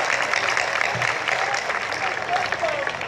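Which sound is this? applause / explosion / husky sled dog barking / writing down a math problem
applause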